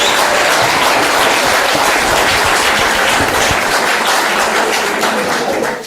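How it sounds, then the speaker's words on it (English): Dense, steady applause from a large crowd at an outdoor bench unveiling honouring Harry Belafonte in Cape Flats, filling the whole stretch loudly before tapering slightly at the end. "Can we give another round of applause to"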